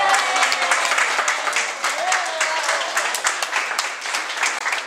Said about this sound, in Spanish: Así, con fuerte aplauso.